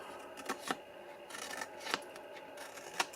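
Large scissors snipping through material, several short crisp cuts with rustling in between, quiet and close, without talk.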